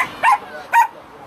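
A small dog at a food stall gives two sharp, high yapping barks in quick succession, close and loud over a quiet background.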